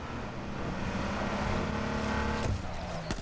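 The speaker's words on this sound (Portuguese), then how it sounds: "tem muito carro vindo, muito carro chegando" Several car engines rumble steadily and close in an H1Z1 survival game, a continuous loud drone of vehicles approaching, with a sharper burst near the end.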